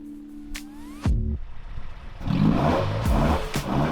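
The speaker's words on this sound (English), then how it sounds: "I drive a 1971 Alfa Romeo Giulia Super." Engine of a 1971 Alfa Romeo Giulia Super revving in short bursts, rising and falling over a rough idle, with a loud blip near the middle and more sustained revs toward the end, no talking.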